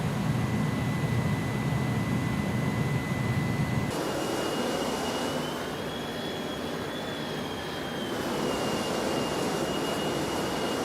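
Jet engines of an iniBuilds A300-600F freighter at climb power in X-Plane 12, a steady loud cockpit roar with a high whine that shifts pitch partway through, continuous and alone.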